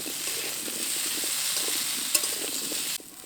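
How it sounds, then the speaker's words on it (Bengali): Elephant foot yam pieces sizzle and hiss continuously in a little hot oil, with occasional soft stirring clicks, close up, until the frying noise suddenly drops away. "অল্প তেলেই ওলগুলোকে ভালো করে ভেজে নেব"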